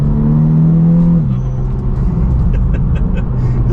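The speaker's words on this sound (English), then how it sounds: "the dump valve sounds amazing" A VW Scirocco R engine pulls hard under acceleration, a loud droning tone that drops in pitch as the revs change, with faint turbo chatter and whooshing near the end suggesting the dump valve venting.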